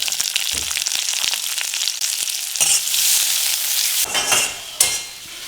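Chopped onion and green chili fry in a pan for street-style veg chowmein, a steady close, loud sizzle with scraping stirs and occasional louder bursts throughout, no voices.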